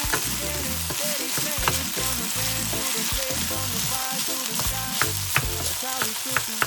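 Ingredients for a Scotch bonnet jerk sauce frying in a pan, a loud continuous sizzle with busy rhythmic clinks and scrapes of a utensil stirring close by.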